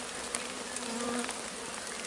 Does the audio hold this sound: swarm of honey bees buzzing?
yes